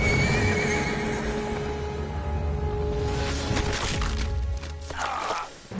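A horse neighs in the video game Metal Gear Solid Delta, giving a clear, loud whinny over a low game backdrop, followed by a few hoof clops.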